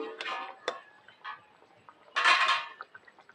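Fried rohu fish stirred gently into curry in a pan, a few separate metallic clinks and scrapes of a spoon against the pan, with one louder scraping stroke near the end and quiet gaps between.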